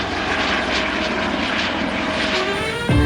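A family helicopter's engine and rotor roar in flight, a loud, dense, continuous drone with a brief shift near the end.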